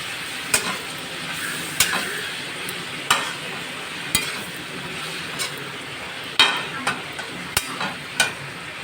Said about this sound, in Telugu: చూడండి, మష్రూమ్ చక్కగా మగ్గుతుంది.